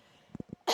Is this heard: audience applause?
no